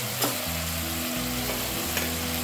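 Mutton with turmeric and coriander powder frying in a pan while being stirred, a close continuous sizzle with scraping stir strokes and a faint background hum.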